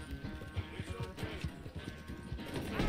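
Horse hooves clip-clopping in a steady rhythm as a horse runs in Red Dead Redemption 2, fairly close, with a few louder knocks and a brief whinny-like sound near the end, and no talking.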